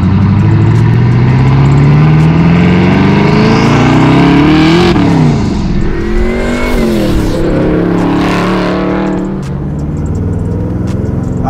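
Twin-turbo Chevrolet Camaro pulling away, engine note climbing through gears with loud revs and shifts, then easing and rising again, close and alone without talk.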